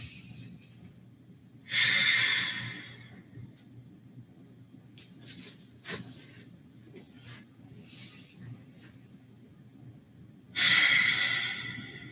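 Slow, deep yoga breaths during a reclined bound-angle pose: two loud, airy inhale-exhale swells, one near the start and one near the end, with quieter faint breathing and rustle between them.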